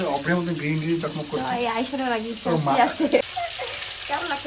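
Rohu fish fries in a pan with a continuous oily sizzle under a person talking close by throughout.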